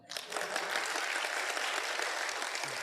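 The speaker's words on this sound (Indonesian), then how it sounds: "Aplaus buat Anda semua." An audience breaks into sustained applause, a dense roar of clapping that starts sharply and holds steady throughout, fairly close and loud.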